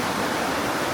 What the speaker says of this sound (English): you can hear the roaring water.